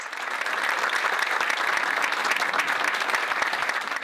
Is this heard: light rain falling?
no